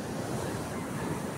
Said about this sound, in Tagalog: Nagngangalit na naman po itong dagat na ito.